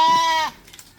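A young crossbreed male goat kid gives a single loud, close, quavering bleat lasting about half a second, then quiet farmyard background follows.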